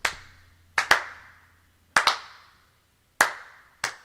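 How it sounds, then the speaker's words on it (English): Slow, spaced hand claps in pairs, sharp and close, each ringing briefly in a quiet room, with long pauses between them in the style of a dramatic movie slow clap. "like the slow clap in a movie too"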